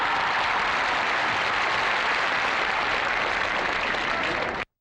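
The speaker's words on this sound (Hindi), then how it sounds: "तो आइए हम उनका तालियों के साथ स्वागत करें" An audience at a college prize-giving breaks into loud, continuous applause to welcome a guest, the dense clapping holding steady before cutting off abruptly.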